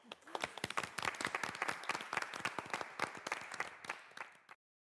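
An audience in a German studio debate show bursts into applause: dense, steady clapping from many hands for about four and a half seconds before cutting off abruptly.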